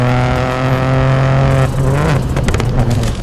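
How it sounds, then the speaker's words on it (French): A Peugeot 208 Rally4 rally car engine hums at a steady, loud pitch, then revs and shifts with harsh, rising bursts of acceleration up close, with no talking. "si vous tendez l'oreille, vous aurez peut-être remarqué qu'avec lui, la voiture est plus sonore"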